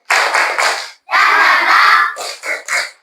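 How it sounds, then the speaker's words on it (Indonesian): Classroom of pupils performing a rhythmic spirit clap in unison: three quick claps, a longer sustained burst of clapping and shouting, then three more sharp claps, loud and close. "Tepuk semangat."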